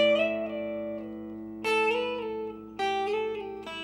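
A single guitar plays a quiet lick on the first string, with sliding notes and a pull-off down to the open string, heard as a few sustained plucked tones that glide in pitch.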